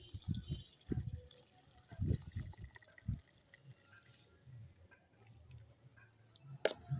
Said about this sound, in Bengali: এতে জল দিয়ে দেবো।